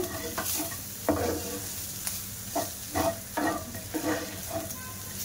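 Chicken filling with meat masala and chilli powder gets stirred in a sizzling pan, a rhythmic run of close scraping strokes about every half second over a steady soft fry.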